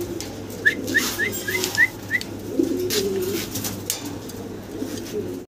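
Black Mundian fancy pigeons, a single active pair, cooing with a rapid run of five short rising calls early on, then low throaty coos continuing close by with no talk.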